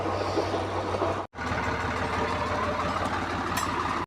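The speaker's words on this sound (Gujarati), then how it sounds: "ટ્રેક્ટર ચાલુ કર્યું દોસ્તો" A tractor engine idles steadily on a farm in a cotton field, with a low, even rumble close by and a brief dropout partway through; no one speaks.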